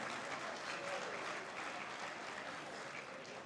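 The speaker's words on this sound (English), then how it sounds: "Give a round of applause to our new friends" An audience claps for first-time attendees, a dense, steady round of applause heard from within the crowd, fairly faint and sustained without a break.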